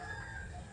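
Hens on a farm give a short, faint stretch of clucking and crowing, a brief close-up murmur of fowl with no voices.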